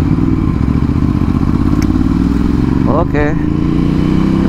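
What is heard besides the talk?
Ducati Hypermotard 796 motorcycle accelerating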